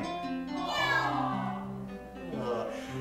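An audience imitates a kitten, with several voices overlapping in high, drawn-out meows. The rising and falling mews come from near a crowd at a Renaissance faire comedy show. The meowing is fairly loud and fills the whole moment.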